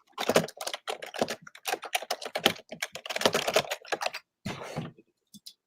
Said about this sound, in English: I'm all typing.